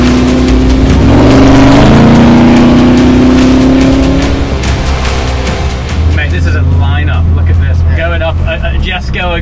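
An Aston Martin Valkyrie hypercar's engine revs hard nearby, a loud rising howl that climbs in pitch, then settles into a lower droning note, with a crowd and voices audible in the background.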